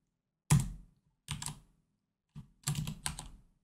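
Bursts of typing on a computer keyboard, a quick cluster of keystrokes followed by two more short flurries, close and fairly quiet with no talking.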